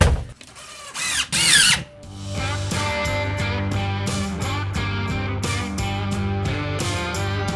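A power drill bores a hole for an electrical cable during a 200 amp service upgrade, starting with a few short loud bursts and then a sustained, even whine.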